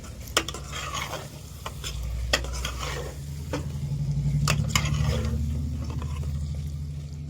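Mutton stir-fries in a pot in a village-style kitchen, a continuous sizzle and fry broken by repeated sharp scrapes and clinks of a ladle against the metal, close and steady throughout.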